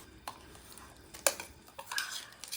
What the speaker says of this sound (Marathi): काढा मॅगी प्लेटमध्ये.